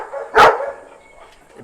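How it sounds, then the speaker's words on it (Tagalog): A dog at a large-breed kennel gives one sharp, loud bark, then a second bark begins right at the end. "Ito yung unang aso, yung nanay nila at saka tatay nila."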